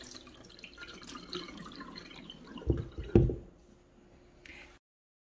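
Water drains from soaked sprouting seeds, first dripping and trickling softly, then coming in two louder sloshing gushes before stopping.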